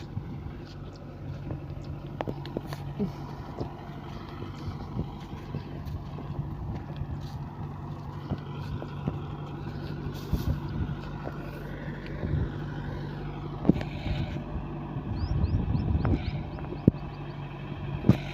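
An ACE tractor drives a rotavator through a flooded paddy field, its engine giving a steady, moderately loud low drone for the whole stretch, with wind noise and occasional splashing knocks over it.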